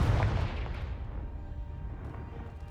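The Confringo blasting spell in Hogwarts Legacy sets off a loud, booming explosion that hits at once, then rumbles and fades slowly over a couple of seconds.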